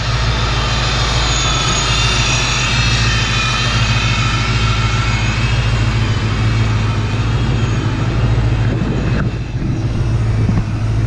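A car engine, reassembled after two years off the road, runs through its first test drive as a loud, steady drone with a low rumble that holds throughout without talk.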